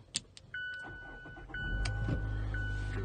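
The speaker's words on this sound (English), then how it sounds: "start the engine while holding every program prox to the start stop button" A Mazda is started with its push-button start: a few short clicks and a faint electronic chime, then the engine catches and settles into a low, steady idle close by.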